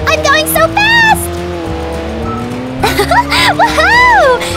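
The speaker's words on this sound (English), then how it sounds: "This car is so fun to drive!" In a Roblox game, a car engine drones steadily and then rises in pitch as it speeds up, with tire squeals and bursts of excited voice over a loud, constant motor.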